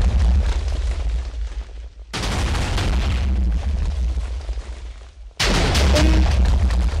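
Repeated TNT cannon blasts in Minecraft: loud, broad booming explosions fill the stretch, with brief lulls between volleys and a fresh burst of blasts near the end.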